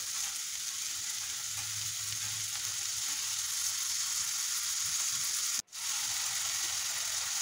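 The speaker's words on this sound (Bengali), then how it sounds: "এখন দিচ্ছি পেঁয়াজ দিয়ে ভালো করে ভাজা করে পেঁয়াজটাকে ভেজে নিব।" Onions fry in hot oil with a steady, close sizzle that continues almost unbroken, briefly cutting out for a moment near the end before resuming.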